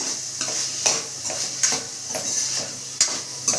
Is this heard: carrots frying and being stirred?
yes